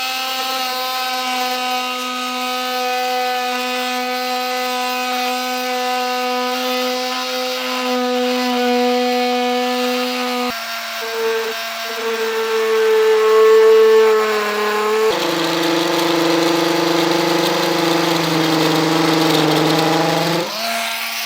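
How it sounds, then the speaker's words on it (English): An oscillating multi-tool trims an opening in a vehicle's rear fascia for a hidden trailer hitch receiver, a loud, steady buzzing whine that holds, shifts pitch at several points and continues close up. "I like to use a multi-tool"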